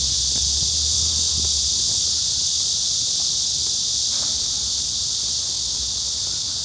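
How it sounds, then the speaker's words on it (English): Loud cicadas sing in a continuous outdoor chorus, a thick unbroken high buzz that stays steady and close, with faint low rumbling underneath. "The cicadas are very loud."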